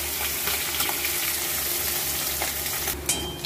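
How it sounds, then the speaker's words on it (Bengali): Small mourola fish coated in salt and turmeric fry in hot oil with a continuous crackling sizzle, with occasional sharper pops and a low background hum. "মাছটা আমি ভেজে দিচ্ছি।"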